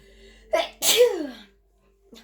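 A single loud sneeze with a sharp intake then explosive burst, followed by a faint short sound moments later; no talking.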